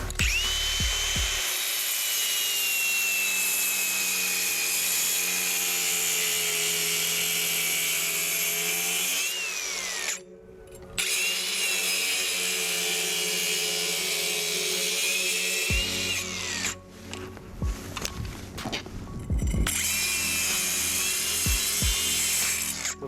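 A Nezlamnyi Turbo diamond cutting disc grinds through a brick in a loud, sustained high whine, cutting out briefly near the middle and again later before the cut resumes.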